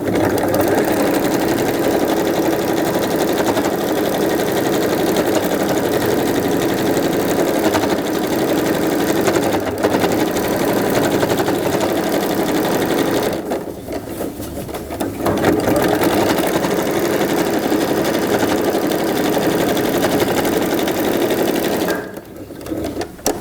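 An electric sewing machine topstitches a seam on a pink patchwork backpack, running loud and steady nearly throughout with two brief pauses.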